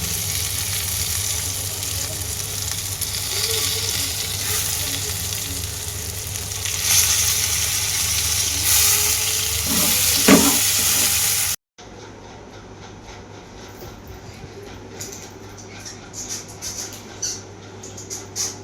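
Cloves and cinnamon frying in a pan for chicken masala, a steady broadband sizzle for most of the span that cuts off abruptly, followed by quieter, patchy crackles.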